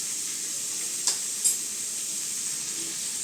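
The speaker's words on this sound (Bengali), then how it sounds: "আমের সাথে লবণ হলুদটা ভালো করে নেড়ে চেড়ে মিশিয়ে নিচ্ছি।" Raw mango pieces with salt and turmeric sizzle in a pan, a constant bright hiss with two quick scraping stirs of a spatula early on, close and without voices.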